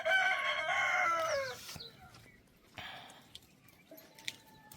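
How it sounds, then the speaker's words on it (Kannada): A rooster in a village crows once, loud and close, in a long drawn-out call, followed by quieter scattered background sounds. "ಅಲ್ಲೇನೈತೆ ರೀ ಹುಂಜ ಕೂಗಾಕತೈತಿ"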